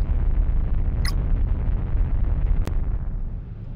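A stasis bomb detonates in the video game Battlefleet Gothic: Armada as a deep, sustained rumbling roar that fades slowly. Two brief sharp clicks sit on top of the rumble.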